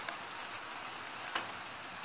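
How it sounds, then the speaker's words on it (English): Heavy rain falls at night in California, a steady hiss of dense drops with a couple of sharp ticks, heard alone. "You guys can't see this, but it is raining. It's been raining non-stop."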